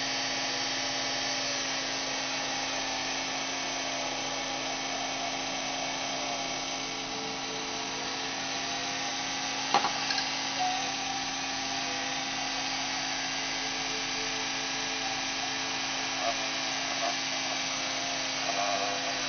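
A homemade polishing tool built from a computer hard drive motor, polishing with GOI paste, runs as a steady high-pitched electric whine with a faint hum, continuous and moderately close, with one brief click near the middle.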